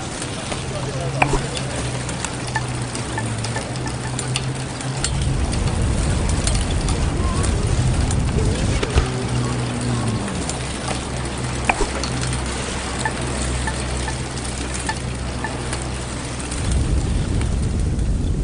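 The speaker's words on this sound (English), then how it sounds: "Here's the sound of my bicycle rolling down the street." A bicycle rolls down a city street in New York or London, giving a continuous rushing, crackling road noise with a low steady hum underneath and occasional clicks and bumps, close and sustained throughout.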